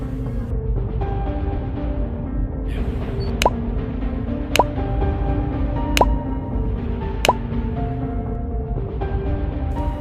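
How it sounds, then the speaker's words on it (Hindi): Four sharp drops of blood fall at roughly regular intervals, each a brief clear plop, over a steady low rumbling hum. "खून की बूंदें टपकने की आवाज़ आती है"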